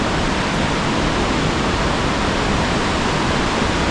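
Steady, loud roar of a rushing mountain stream alongside the Manimahesh trekking trail, a dense broadband wash of water that stays constant throughout with no voices.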